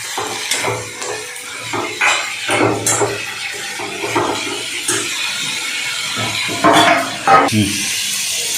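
Capsicum sautés in a pan, with repeated scraping and knocking of a spatula against the metal over a soft sizzle, in irregular bursts.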